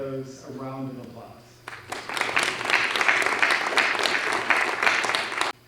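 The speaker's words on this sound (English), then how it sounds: "If we could give all of those a round of applause." Applause from the audience at a county academic decathlon event breaks out after a spoken introduction, a dense, steady wash of clapping that runs for several seconds before cutting off.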